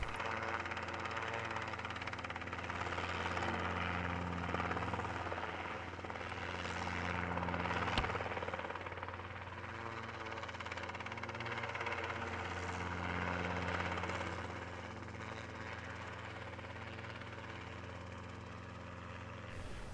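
Robinson R-22 helicopter flying an agile display at the Batajnica airshow in Serbia, rotor chop and engine droning at a middling distance, swelling and fading as it manoeuvres, with no talk.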